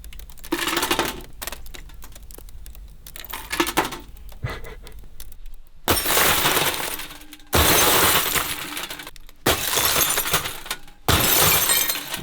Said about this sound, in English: It's like ASMR glass breaking.